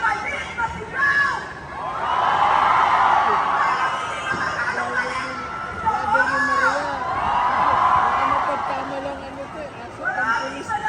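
Young people gather at a public event in Mendoza and cheer and shout together in swelling waves, the loud bursts rising and fading over background chatter.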